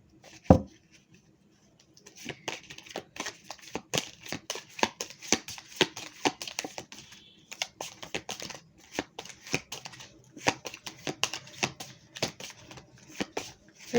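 Tarot-style cards for a reading are handled and shuffled, producing repeated quick riffling bursts and soft flicks in uneven clusters, close and fairly quiet.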